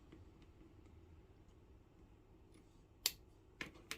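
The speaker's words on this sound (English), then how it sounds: "we're going to have to cut this longer" Scissors snip through braided trim in three close, crisp cuts near the end, each a sharp short click against a quiet room hum.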